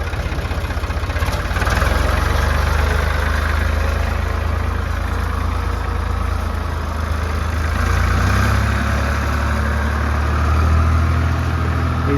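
A Ford 3610 tractor engine idles close by, a steady low diesel chug that holds an even rhythm throughout.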